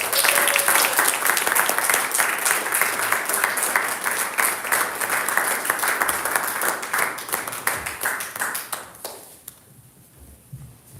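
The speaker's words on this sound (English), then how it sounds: "let's all give them a round of applause" A graduation-ceremony audience applauds a Youth Empowerment Program class as they come up to the stage. Dense, steady clapping fills the room for about nine seconds, then fades quickly into quiet.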